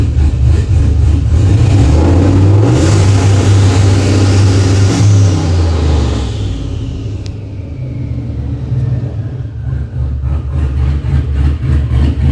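Car fitted with an S475 turbo driving on the road, a loud steady engine rumble with rising and falling revs, strongest early then easing slightly as it cruises, with no talk.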